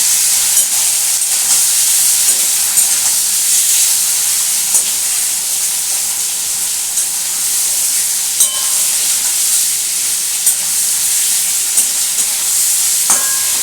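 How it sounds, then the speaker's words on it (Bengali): Shrimp frying in a pan, a loud continuous close sizzle with occasional small clicks and crackles, no talking. "এই চিংড়ি মাছগুলো এগুলো বেশি ভাজার দরকার হয় না"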